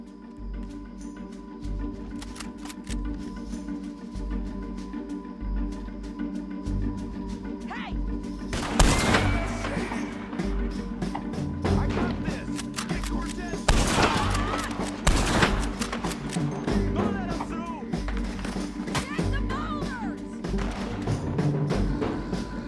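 Scattered gunshots crack through a Red Dead Redemption 2 shootout, with a loud burst of volleys near the middle and sporadic shots continuing over a low background bed, some voices faintly underneath.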